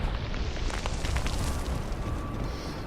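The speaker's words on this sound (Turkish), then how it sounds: "Ananı kim bomba attı lan?" A bomb blast in the shooter game Ghost Recon Phantoms, a loud broadband rumble that swells and fills the clip, with sharp crackling debris on top and a long roaring tail.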